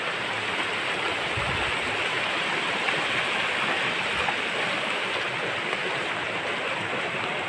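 A river swollen by heavy rain rushes past in a dense, continuous roar of churning water, loud and unbroken from start to finish with no voices.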